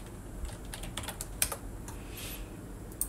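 Fingers type on a computer keyboard, giving a close, irregular patter of light key clicks over a steady room hiss, with a couple of sharper taps standing out.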